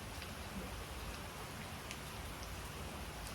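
Steady rain falling, a soft, even hiss with scattered drop ticks throughout and no voices.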